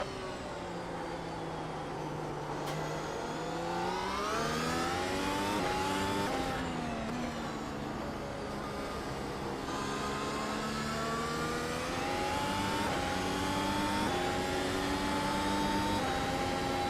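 Race car engines at Phillip Island Circuit in the iRacing game, during an Australian Grand Prix, wail loudly and continuously, their tone sweeping up through the gears with clear rising and falling pitch, alone without talk.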